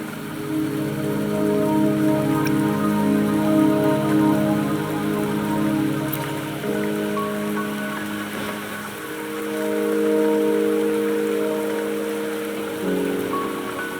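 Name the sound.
rain falling in the video game Wuthering Waves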